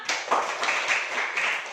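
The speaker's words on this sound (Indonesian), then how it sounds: "Berikan tepuk tangan." A classroom of students gives a short round of applause for a classmate, steady clapping from a group nearby lasting a couple of seconds.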